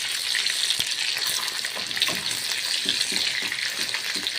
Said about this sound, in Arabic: هنحمر بقى